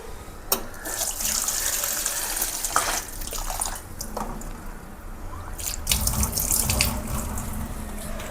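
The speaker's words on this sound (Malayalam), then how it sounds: "ഇതൊന്ന് ഇച്ചിരി നേരം വെള്ളം ഒഴിച്ച് വയ്ക്കാം" Tap water pours over dried fish to soak them, a continuous splashing stream into a vessel with a few louder gushes and drips along the way.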